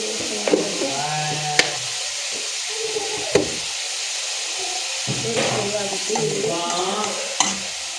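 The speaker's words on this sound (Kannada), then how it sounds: "ಈರುಳ್ಳಿ ಚೆನ್ನಾಗಿ ಫ್ರೈ ಆಗೋಕ್ಕೆ ಸ್ವಲ್ಪ ಉಪ್ಪು ಹಾಕೋಣ." Onions frying and sizzling in a pan with salt added, stirred now and then with sharp scrapes and knocks against the pan over a steady hiss, while a voice speaks softly at times.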